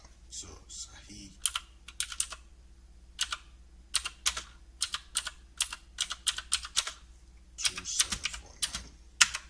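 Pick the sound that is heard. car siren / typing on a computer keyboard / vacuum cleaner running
typing on a computer keyboard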